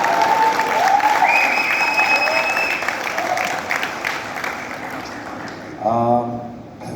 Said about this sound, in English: A big round of applause for Zoya.